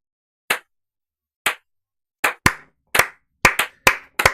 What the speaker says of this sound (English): And I applaud you guys.